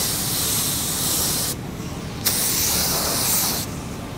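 A spray gun laying down 2K primer in loud, close hissing bursts, two long passes separated by brief gaps where the airflow cuts off, with no talking.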